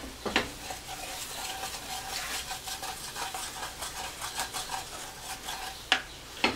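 Flour and butter are stirred in a pan over a low flame, a spoon scraping the pan bottom with soft rhythmic strokes over a gentle sizzle, close by, with a couple of sharper clinks of utensil on metal.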